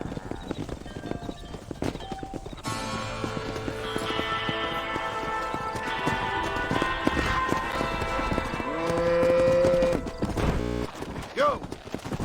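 Hoofbeats of a herd driven across open ranch land in the Red Dead Redemption video game, a steady clip-clop of running animals under music and occasional talk.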